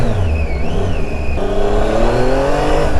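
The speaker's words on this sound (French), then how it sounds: "Et puis quand tu accélères, oh là là là là, la Tiger" Triumph Tiger 800 (2017, A2 version) motorcycle accelerating on the road, engine note climbing steadily in pitch over wind rush, close and loud throughout.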